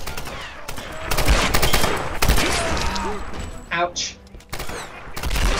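Repeated gunfire bursts from a firefight in Tomb Raider: Definitive Edition, loud shots and volleys scattered across the scene with game effects and a brief spoken exclamation in between.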